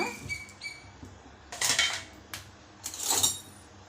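Coriander seeds and cumin tipped into a kadai on a lit stove, giving a few short bursts of sharp, bright rattling clinks against the metal, separated by quiet gaps.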